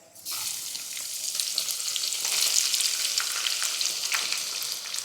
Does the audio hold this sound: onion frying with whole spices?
yes